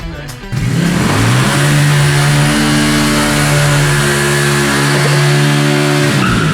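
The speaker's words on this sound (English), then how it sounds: "smoothest riding Chinese bike I've ever ridden in my life." A cheap Chinese V-twin cruiser motorcycle rides past close and loud, its engine revving up through steady tones with rising pitch shifts as it accelerates, continuous for several seconds.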